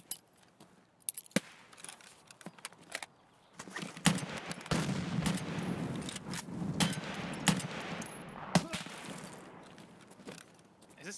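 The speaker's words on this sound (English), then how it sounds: "We're getting shot from behind." Gunfire in a shooter video game: sharp shots crack out sporadically near the start, then a denser stretch of rapid firing and explosions follows, with scattered single shots toward the end.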